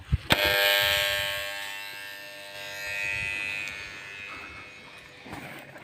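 A steady electric water pump motor hum with high-pitched whine starts after a couple of sharp clicks, running continuously at moderate level.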